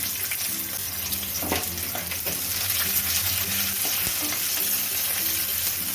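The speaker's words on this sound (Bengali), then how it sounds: "এক চামচ কালো জিরে ফোড়ন দিয়ে দেবো কয়েক কোয়া রসুন দিয়ে দেবো দুটো কাঁচা লঙ্কা ও একটা ছোটো সাইজের পেঁয়াজ ধুরি করে কেটে নিয়েছি" Black cumin, garlic cloves, green chillies and chopped onion crackle and sizzle in hot oil, a loud, continuous fry broken by occasional stirring clinks, close up and without speech.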